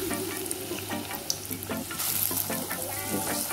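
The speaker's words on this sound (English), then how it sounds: "Gonna fry the plantain now, guys. Add it inside there." Plantain frying in a pan for a Sunday breakfast, giving a steady close sizzle with scattered pops and spatters, joined by intermittent scraping and stirring sounds, with no talking.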